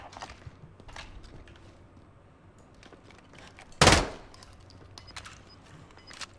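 A single loud gunshot cracks out in a shooter video game, a sharp close burst standing above a quiet background of scattered faint game noises.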